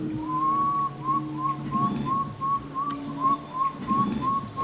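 A man on a river whistles a run of short, bright, evenly spaced bird-like notes, close and clear, imitating the call of a water bird.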